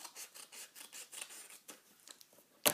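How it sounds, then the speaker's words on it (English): Quick close snips of scissors cutting out paper bee craft pieces, a run of soft rhythmic cuts and rustles, quiet and alone, ending with a sharper clack. "then I'm actually going to cut in between them to separate them, because then that will make it easier to cut them all out"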